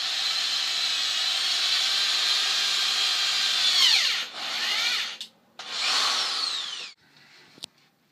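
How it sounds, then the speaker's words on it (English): A power drill bores screw holes into a Halo Reach Mark V B helmet, its steady whine holding up close for about four seconds before gliding downward, then cutting out and restarting in short bursts. "So we're drilling the holes for the screws"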